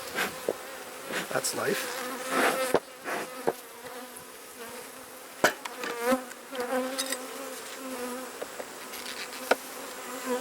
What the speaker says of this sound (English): Just have a couple of bees coming at me